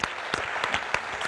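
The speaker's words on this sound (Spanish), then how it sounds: "un aplauso a los este partanos" An audience breaks into applause, a brief burst of lively clapping from a small crowd with several distinct sharp claps standing out over the steady patter.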